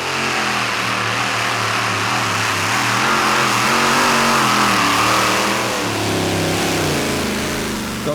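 A Chevy 540 engine powering a pulling tractor at a European tractor pulling championship in Norway, a loud, sustained roar with rising and falling revs that holds steady throughout.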